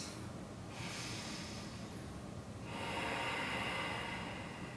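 Deep breathing during a held power-yoga pose: a long, airy exhale-like rush that fades, followed by a louder, sustained breath sound, close to the mic and with no talking.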